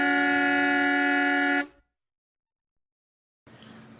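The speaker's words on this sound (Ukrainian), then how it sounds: "А це сигналить автобус." A bus horn blares in one sustained, loud honk that cuts off, followed by silence and then a faint new sound.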